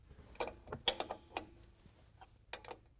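A ratchet loosens the upper and lower control arm bolts on a GMC Sierra truck, giving a few sharp metallic clicks and short ratcheting bursts up close, separated by quiet gaps.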